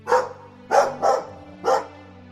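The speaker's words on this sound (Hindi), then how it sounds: "एक सफेद और पीले कलर के कुत्ते ने आर्य को देखते ही भौंकना शुरू कर दिया।" A white and yellow dog barks four times in short sharp bursts, one near bark, then a quick pair, then one more, with a low steady hum underneath and no talk.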